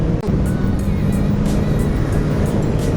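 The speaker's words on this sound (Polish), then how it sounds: "ja was kompletnie nie słyszę, że ten głupi wydech" A loud, continuous rumbling car exhaust drones steadily while driving, with a deep throaty roar that never lets up.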